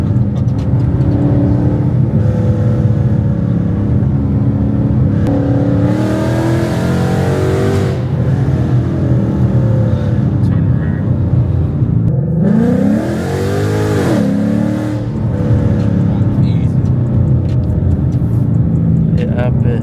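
A loud Ford Mustang engine roars and revs hard in rising sweeps, dropping and climbing again, while people talk over the noise from inside the car.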